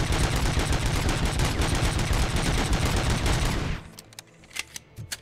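Continuous loud automatic gunfire in the video game RoboCop: Rogue City, a dense unbroken barrage that cuts off abruptly, followed by a few scattered single shots.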